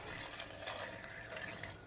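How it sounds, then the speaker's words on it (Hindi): Half a cup of water poured onto sugar and peaches for homemade peach juice, a faint, close trickling splash that goes on briefly without any voice. "आधा कप पानी शामिल करेंगे।"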